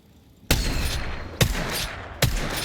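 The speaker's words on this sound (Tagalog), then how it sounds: "Enemies firing at me." Enemy gunfire in a shooter video game: three sharp, loud gunshot cracks spaced about a second apart, each followed by noisy ringing over a constant wash of game noise.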